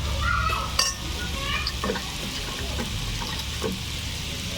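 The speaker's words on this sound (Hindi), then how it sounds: "इसको हम थोड़ी देर मसाले में सेकेंगे।" Dabeli potato filling roasting in spice masala in a pan: a constant soft sizzle with scattered scraping stirs and light clinks of a spoon against the pan, heard close up with no talking.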